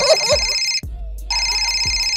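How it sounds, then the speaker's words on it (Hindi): A phone rings with an incoming call, playing a loud electronic ringtone of repeating bright tones that breaks off briefly and then resumes, close and clear. "मेरे गाँव से फोन आए ले"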